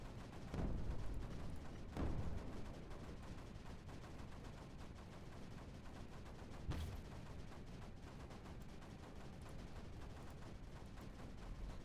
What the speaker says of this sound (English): it's a lot of mortars shooting there